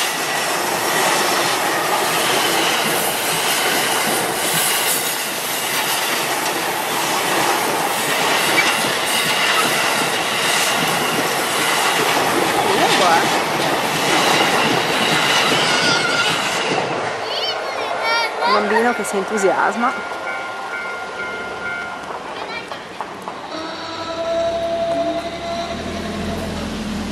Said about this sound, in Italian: torniamo indietro per farvi vedere questo passaggio del treno